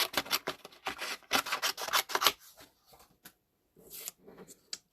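Snips cutting stamped paper pieces for a card bouquet, close and fairly quiet, a quick irregular run of crisp snipping and rustling strokes that pauses, then picks up again with a few last snips.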